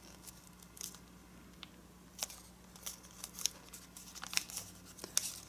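Sheet of origami paper being folded and creased while shaping a dragon model, soft crinkles and sharp little snaps of the crease scattered over several seconds, close and quiet against a faint steady hum.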